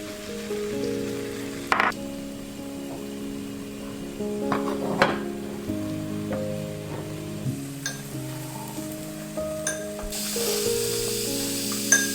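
Egg for tamagoyaki, a Japanese rolled omelette, sizzles and crackles in a pan. A steady hiss of frying runs throughout with a few sharper pops and clinks over it, fairly close and loud, with light background music.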